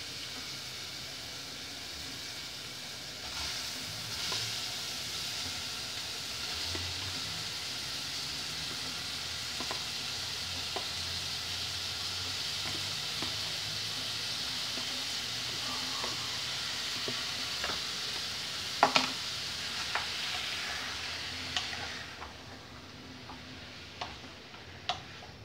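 Beef sizzling and frying steadily in a pan for strogonoff, a constant quiet hiss with occasional soft pops and clicks, no talking.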